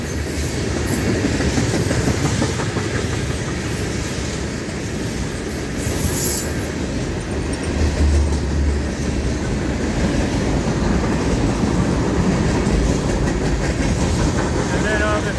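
Freight train on the Florida East Coast Railway rolling past up close, a loud continuous rumble with clickety-clack of wheels over rail joints and occasional wheel squeal, sustained throughout.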